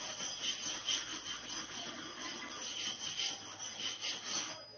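A biscuit bone is rubbed back and forth across a flat plate iron used to sharpen clipper blades, giving a continuous gritty scraping with a gently pulsing stroke rhythm, close and fairly loud.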